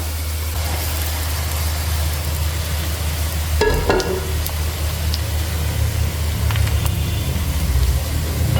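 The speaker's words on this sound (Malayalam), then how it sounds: "ഇത് നല്ലതുപോലെ ഇളക്കി കൊടുക്കാം" Grated coconut is stirred in a frying pan with browning ingredients, giving a constant close sizzling hiss, with a brief scraping stir near the middle.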